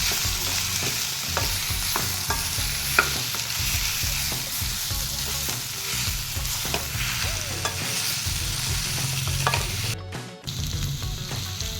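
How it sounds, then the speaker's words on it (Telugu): Raw banana pieces with turmeric are stirred in a hot pan, making a continuous close sizzle with repeated scraping and clattering stir strokes and a brief pause near the end; no talking. "ఇప్పుడు మొత్తం కలుపుకుందాం ఒకసారి"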